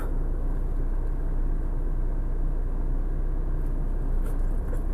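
A 2012 Tata Vista car on a test drive, its engine and road rumble forming a steady low drone from inside the cabin, constant and unbroken with no voices.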